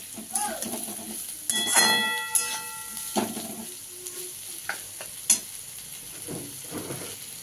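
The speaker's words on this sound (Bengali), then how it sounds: "অল্প করে একটু পেঁয়াজ দিয়ে দিলাম, এবার এর সঙ্গে ভাজা হয়ে যাবে" Mixed vegetables and onion fry in a pan with a continuous sizzle and stirring scrapes, plus a few metallic clinks and a short ringing tone early on, with faint voice traces in places.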